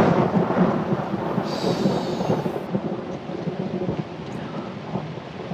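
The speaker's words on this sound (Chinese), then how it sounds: "这么大雷声不怕吗？" Loud thunder rolls continuously through a heavy rainstorm, a dense rumbling roar with steady rain hiss beneath it, sustained for the whole stretch with no voices.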